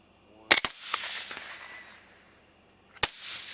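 Rifle gunshots fired while shooting through an ATN Thor 640 thermal scope: two sharp cracks in quick succession, a fading tail, then a third loud crack about two and a half seconds later, all nearby outdoors.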